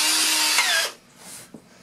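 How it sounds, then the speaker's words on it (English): A power drill bores through birch wood, a pilot hole for screws while a bathroom medicine cabinet is installed. One loud whining burst drops in pitch as it winds down and stops abruptly, followed by near silence and a faint knock. "I'm drilling through the birch so the screws don't split the wood"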